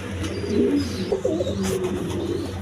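A pair of Giribaz pigeons on a farm, cooing in repeated low throaty rolls close by, with faint higher chirps and steady background noise.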